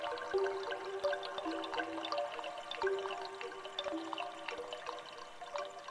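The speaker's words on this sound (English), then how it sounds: "All of a sudden, they are this beautiful river." Chimes processed into a flowing liquid river texture: continuous watery bubbling and trickling with soft tonal ringing woven through, steady and moderately loud throughout.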